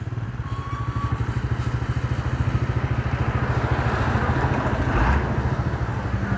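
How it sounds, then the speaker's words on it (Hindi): A dumper truck drives fast toward the listener at a road shoulder construction site. Its engine makes a steady, rapid chugging throb that builds slightly as it nears, with some clattering. "तो अभी देखें ये डंपर देखें काफ़ी तेज़ रफ्तार से आता हुआ जी।"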